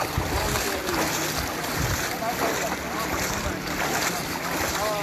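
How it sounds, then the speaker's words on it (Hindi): Floodwater rushes steadily down a village lane during flooding in Bihar, a continuous broad wash of flowing water with a roar like wind noise, constant and close throughout with no clear talk. "देखिए गली से पानी देखिए क्या बहता है।"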